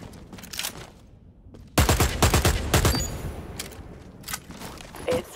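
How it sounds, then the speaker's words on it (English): A rifle fires at a moving target on a firing range in the game Dirty Bomb: a rapid, sharp burst of several loud shots, then scattered quieter follow-up shots, after a short quiet stretch. "let's step things up and take a shot at the moving target"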